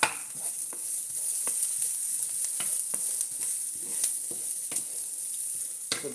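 Turmeric sautéing in a pan gives a steady close sizzle, broken by light scraping clicks from stirring at a regular pace, with no one talking.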